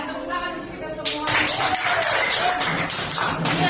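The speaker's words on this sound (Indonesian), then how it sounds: "Dan tepuk tangan untuk kita semua" A group applauds at the close of a session: a voice talks briefly, then a burst of lively hand clapping starts about a second in and continues strongly to the end.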